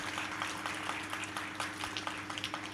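Faint audience applause at a talk about the Sabarimala movement, a steady patter of many hands clapping at a distance over a low background hum.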